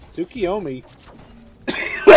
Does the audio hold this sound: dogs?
no